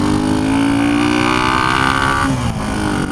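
A 1976 Honda CB125S motorcycle engine drones loudly up close, its pitch sliding down as the bike slows, then a clear drop in tone as it shifts down a gear.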